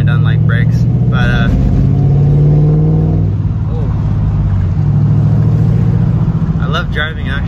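A Saleen car engine with louder mufflers revs and rumbles with a deep, throaty exhaust note, steady and close, while a person talks over it.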